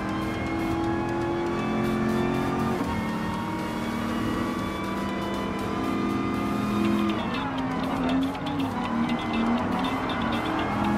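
A classic Ford Mustang Mach 1 muscle car racing in Gran Turismo Sport, its engine droning loudly and continuously, pitch climbing through gears with shifts and a brief drop as revs change.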